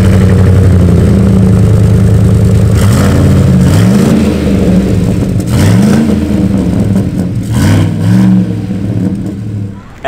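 The custom exhaust on a 2019 Chevrolet Silverado 1500 RST with the Rocky Ridge Mad Rock package rumbles loudly up close, rising and falling through several throttle blips over a deep idle.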